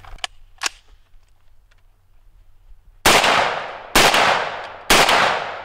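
A 5.45 carbine rifle fires the last magazine of the day on an outdoor range: three loud, sharp shots spaced about a second apart, each ringing out with a long decay, preceded by a few faint clicks and handling noises.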